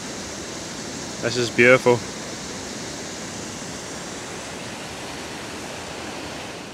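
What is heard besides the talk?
waterfall in the Scottish highlands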